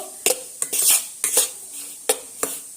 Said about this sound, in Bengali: দিয়ে আমি সমস্ত দুধটা সুজির সঙ্গে এইভাবে মিশিয়ে নেব